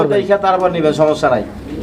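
Shirting fancy pigeons cooing in a pigeon sale loft, soft repeated throaty coos running through most of the two seconds, close by, with a voice talking alongside.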